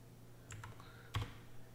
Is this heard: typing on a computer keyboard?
yes